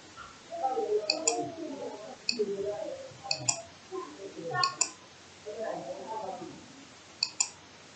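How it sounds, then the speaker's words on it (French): A computer mouse clicks crisply a handful of times, spaced irregularly, under someone speaking French at close range. "Je clique sur générer"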